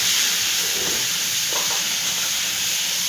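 Masala spices fry in hot oil in a pan, giving a continuous close hiss and sizzle with faint stirring, alone without any talking.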